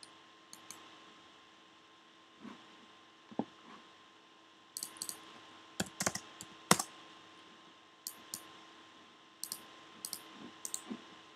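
Typing on a computer keyboard during a procedural modeling session: sparse, quiet key clicks come in short bursts and scattered single taps over a faint steady background hum.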